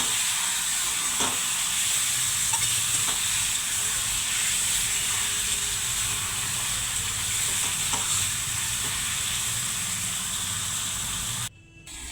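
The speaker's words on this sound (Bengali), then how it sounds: "পেঁয়াজটা হালকা ভাজা হয়ে গেছে, মেখে রাখা চিকেনটাকে দিয়ে দেবো।" Marinated chicken and lightly fried onions hiss and sizzle in a pan while being stirred, with occasional scraping clicks over a constant, close frying noise that cuts off abruptly at the end.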